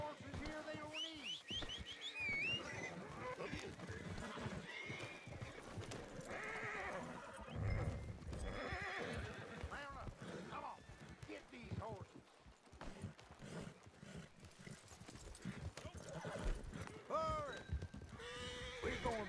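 Horses neighing and hooves clip-clopping in the Red Dead Redemption 2 video game, heard among game sounds, with someone talking over much of it.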